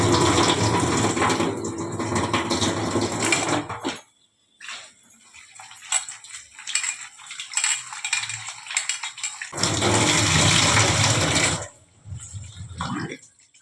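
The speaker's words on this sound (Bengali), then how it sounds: "এবারে আমি এটা একটুখানি জলটা ফেলে দিয়ে আর একবার করে আমি একটু ধোবো" Drumstick flowers are washed in a bowl of water in a home kitchen, with loud splashing and pouring in two bursts, and softer clinks and dripping between them.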